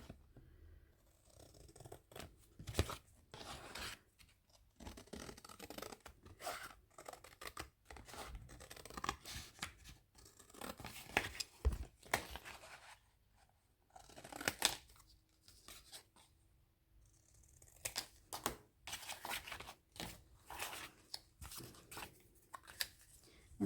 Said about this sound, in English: And then you'll just cut this out.